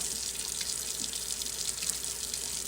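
Tap water runs in a steady, even hiss into a sink while a cloth face mask is washed by hand, with no pauses or talking.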